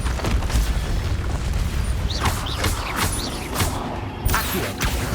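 In Hogwarts Legacy combat, the Bombarda explosion spell sets off a series of booming blasts and crashing debris impacts, spaced irregularly over a steady backdrop of battle noise.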